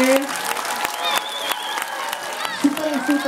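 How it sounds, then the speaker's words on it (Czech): An audience at a youth football tournament applauds a freestyle football performer, with scattered clapping and cheering under a host's amplified voice. "Zatleskejte Petrovi."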